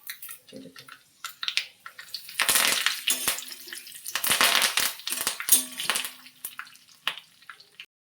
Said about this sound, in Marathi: आणि ही कढीपत्ता चांगला धुवून आणि त्याचे तुकडे करायचे